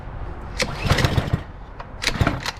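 A small pressure washer engine is choked and cranked with several quick rough pulls and sputters, but it does not catch or settle into a steady run.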